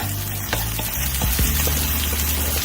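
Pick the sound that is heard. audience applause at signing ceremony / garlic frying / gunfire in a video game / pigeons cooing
garlic frying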